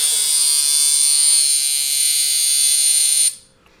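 A Vlad Blad Infinite Airliner air coil tattoo machine at 7.5 volts buzzes loudly and steadily, a harsh high-pitched electric drone that cuts off abruptly after a few seconds.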